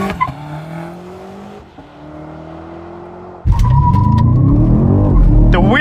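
BMW M5 G99 launching hard off the line on a racetrack, a loud roaring engine surge bursting in after a quieter rising rev, with squealing tire spin and rapid gear-driven pitch climbs close by.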